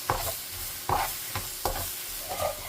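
Eggplant is stir-fried with garlic in a hot pan, with loud, close scraping strokes of the spatula repeating about every second over a continuous sizzle.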